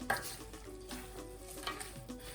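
Pondu with a little bicarbonate soda is stirred in a pot over an unlit fire, giving soft scraping and swishing stirring sounds with a few light knocks against the pot, close and fairly quiet.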